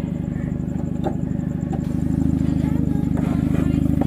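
An SUV grinds along a rocky Aravali hill track off-road, its engine a loud, steady low rumble with rattling clatter from the stones, getting louder toward the end as voices speak in the background.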